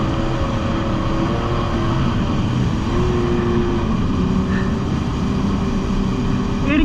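A Yamaha Superjet stand-up jet ski engine roars loud and close, its pitch rising and falling as the throttle varies, over continuous rushing noise while the rider turns on the water.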